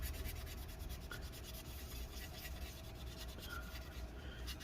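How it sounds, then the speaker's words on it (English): Someone rubs a laptop heatsink clean with rubbing alcohol, making soft continuous scrubbing and wiping strokes close up at a fairly quiet level, with a few faint scrapes along the way and no voices. "we're gonna kind of just clean that off with the rubbing alcohol"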